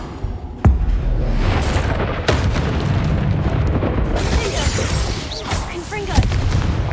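An Incendio fire spell blasts in Hogwarts Legacy, a sharp boom followed by a roaring, crackling rush of flame, loud and close, with further bursts of magical combat around it.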